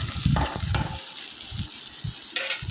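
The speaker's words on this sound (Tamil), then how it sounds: "வெங்காயம், பூண்டு, இஞ்சி சேர்த்து வணக்குங்க." Onion, garlic and ginger sauté in a pan for a mutton dish, giving a soft continuous sizzle broken by a few short scraping stirs, close and fairly quiet, with no voices.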